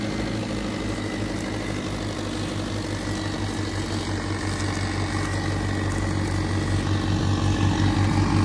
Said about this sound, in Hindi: 50 HP का ट्रैक्टर है, 10 फुट का कटर है